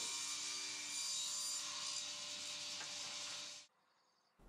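A handsaw cuts through a length of uPVC window trim, giving a steady, close rasping stroke that runs for several seconds and then stops abruptly, leaving near silence.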